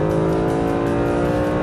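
A 2013 Mercedes-Benz SLS AMG Black Series on a race track straight, its engine revving hard at high rpm as a loud, steady, harmonically rich roar.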